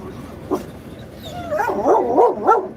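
A pet dog making vocal sounds: a single short yip, then a run of rising whiny, warbling barks and whimpers close by, moderately loud.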